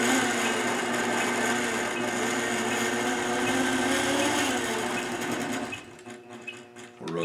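A sewing machine fitted with an eccentric attachment runs in a steady, loud mechanical whir for several seconds, then stops with a few clicks and clunks.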